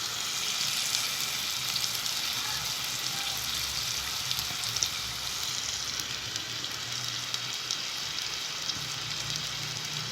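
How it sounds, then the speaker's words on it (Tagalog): Pot of food with mushroom coming to a boil, giving a steady bubbling hiss that holds at an even level throughout with no talking. "Hintayin lang natin kumulo."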